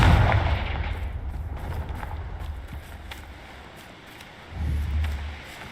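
Confringo fire blast spell cast in the video game Hogwarts Legacy: a heavy low boom rolls out at the start and fades into a rushing roar, then a second deep blast swells near the end, with faint crackling between.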